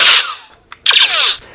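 Mandalorian prop blaster firing through a tiny 2-watt 40mm speaker driven by a small amp, two sharp bright zaps with descending sweeps, loud and close, separated by a brief gap.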